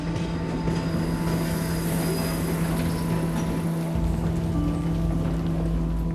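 Rapid train 5418M at Takarazuka Station, end of the line: a steady rumbling railway hum with a sustained tonal whine and a shift in low rumble partway, continuous and fairly loud with no talking.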